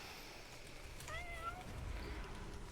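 A pet cat called Kitty gives a single soft, drawn-out meow over a quiet background hum, faint and fairly close.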